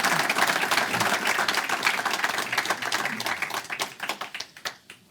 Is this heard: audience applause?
yes